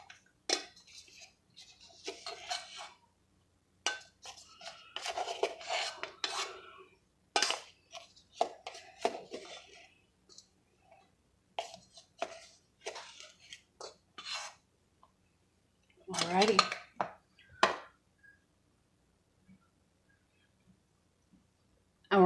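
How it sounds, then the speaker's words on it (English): Blueberry buttermilk bread batter stirred by hand in a bowl, giving soft, irregular scraping and clinking strokes that come in bursts with short pauses, fairly quiet and close. "'m mixing this by hand."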